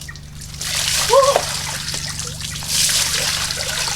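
Water splashes and trickles close by as someone bathes outdoors outside a house in Gaba, Rapu-Rapu, Albay, with bursts of sloshing while a voice whoops and talks over it.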